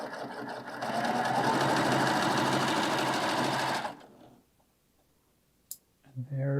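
A Baby Lock serger chains off in a steady, fast mechanical whir for about four seconds, then stops abruptly, leaving near silence and a couple of faint clicks.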